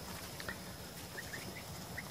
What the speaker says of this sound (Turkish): Gördüğünüz gibi dışarıda kazlarım var.